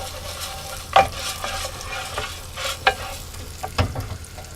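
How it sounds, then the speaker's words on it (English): Rice being stirred in hot oil in a pan while making chicken risotto, with a soft steady sizzle broken by a few scraping spoon strokes. No one speaks. "I'm just going to coat the rice with the oil."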